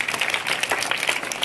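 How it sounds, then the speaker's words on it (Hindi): Students in a school campus gathering give a burst of applause, a dense wash of many hands clapping at steady loudness throughout. "के लिए जोरदार तालियां एक बार बजा दे।"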